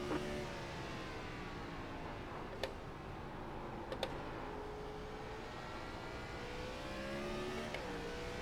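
Gen 4 race car engine circling Martinsville in a racing video game, a steady, fairly faint drone with slowly rising and falling pitch, broken by a few sharp ticks.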